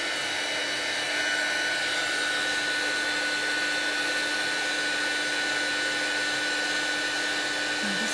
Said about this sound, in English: Heating this up, you'll notice it just starts to change from powdery matte to a lovely white gloss.